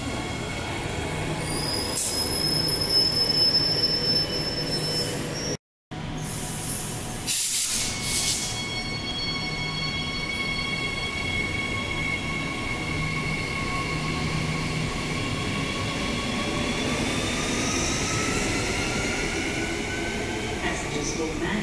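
A train at Warnbro railway station, with steady loud rumble, hissing and high wheel squeal throughout, and a station announcement voice heard over it.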